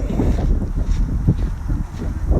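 Wind gusts buffet the microphone beside a creek on a sunny winter day, a steady low rumble with rustling, loud and close throughout.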